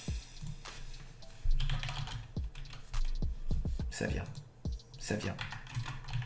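Fingers type quickly on a computer keyboard, a run of crisp close clicks under someone speaking French.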